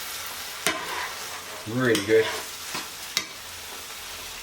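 Pasta being stirred into a tomato sauce in a pan over a light sizzle, with a few scraping stirs and utensil knocks. A person talks briefly over the stirring.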